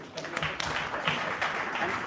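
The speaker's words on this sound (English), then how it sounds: "please give a big round of applause for Golden Pocket" An audience at a Solana Breakout demo day claps, a steady dense wash of applause filling the room, with voices mixed in throughout.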